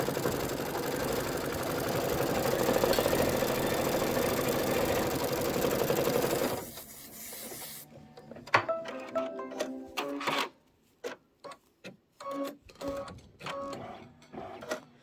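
An embroidery machine stitches rapidly with a dense mechanical whir, then stops and gives way to short bursts of clicking and tapping.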